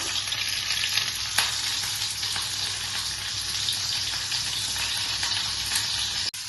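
Onions and green chillies fry in a pan with a loud, steady, close sizzle and a few faint stirring scrapes, with no talk.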